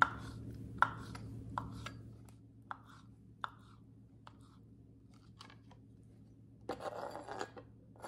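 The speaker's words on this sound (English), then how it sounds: "Now, chop up your egg whites." Cooked egg whites chopped with a knife on a board for avocado egg salad, a sparse series of soft close taps and crunches over a low steady hum, ending in a short scraping flurry.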